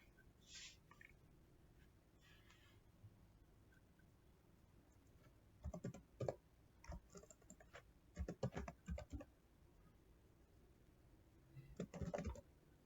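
Soft keyboard typing comes in a few short bursts of clicks, faint and sparse, with quiet gaps between them.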